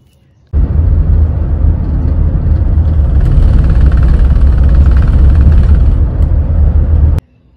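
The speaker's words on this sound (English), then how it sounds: "here's what that transmission shudder looks and sounds like" A Ford Edge with a transmission shudder gives off a loud, close engine drone full of low vibration. It starts abruptly, holds steady for about seven seconds with a gritty, buzzing texture, then cuts off sharply.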